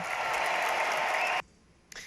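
Applause follows Kamala Harris's speech, a dense burst of clapping that cuts off abruptly after about a second and a half, with a faint brief return at the end.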